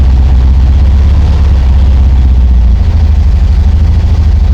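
A 1968 VW Karmann Ghia engine runs loud and close with a steady, deep air-cooled rumble that holds throughout, shifting slightly in tone partway through as the car pulls away on the clutch. No one speaks.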